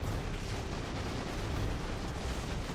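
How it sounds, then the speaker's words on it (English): Grenade launch and blast in Dawn of War 2: Retribution, a dense, continuous rumbling roar of explosive noise that stays loud and steady throughout with no clear single burst. "Launching grenade."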